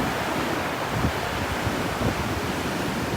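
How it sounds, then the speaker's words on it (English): Ocean surf breaking over a sandbar off northeast Florida, a steady broad wash of rolling waves with continuous roar and slight swells in loudness, no voices. "Those waves are getting clean right there on that bar right there."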